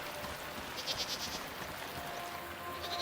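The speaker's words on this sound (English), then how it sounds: "Oh, look, a sheep!" A sheep bleats in the video game Season: A Letter To The Future, a couple of short wavering calls rising over a soft ambient outdoor bed of flowing water and background hiss.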